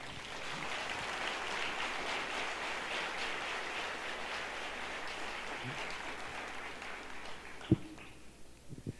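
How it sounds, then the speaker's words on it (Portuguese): Sustained applause from a church congregation, steady and dense for several seconds before thinning out with a few scattered final claps. "Quem crê nisso, aplauda ele."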